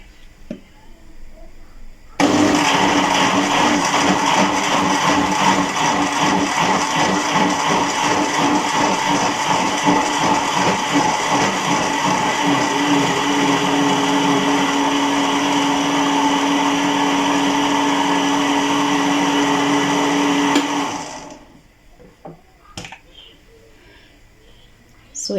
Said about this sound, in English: I'll just give it a pulse, and then yeah, it blends up.